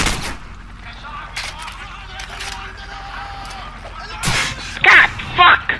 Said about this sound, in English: Who's shooting? Who the fuck is shooting?